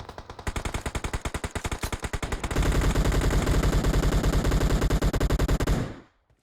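Rapid automatic gunfire in the PUBG video game on the Livik map, first as a steady rhythmic burst of shots, then a denser, louder continuous barrage that cuts off abruptly at the end.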